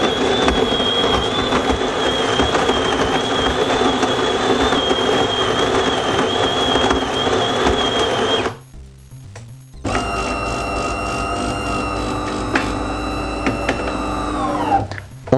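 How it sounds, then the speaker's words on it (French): A DeLonghi espresso machine's built-in grinder whirs steadily as it grinds coffee for an espresso, loud and close, then stops; after a brief silence a rattling mechanical whir of the brewing unit follows. "On a entendu le moulin tourner"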